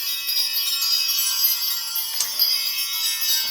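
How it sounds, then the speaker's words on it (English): Bells rung to clear energy and create sacred space, a sustained shimmering high ring with a fresh strike about two thirds through, steady and fairly close, no talk. "I want to ring the bells"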